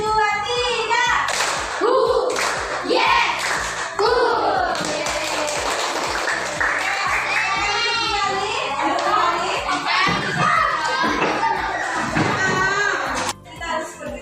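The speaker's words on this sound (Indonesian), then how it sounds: "Tepuk satu, tepuk dua, tepuk tiga, tepuk 1, 2, 3." Schoolchildren in a classroom lesson clap in counted patterns of one, two and three. The sharp claps come in bursts, and a teacher's voice and children's voices run between them.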